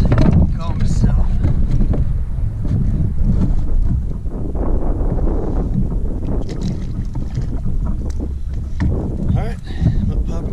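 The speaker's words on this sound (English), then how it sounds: "it's getting pretty windy" Strong wind buffeting outdoors on the water while kayak fishing at Dauphin Island, rumbling and gusting steadily throughout, with water noise and someone talking over it.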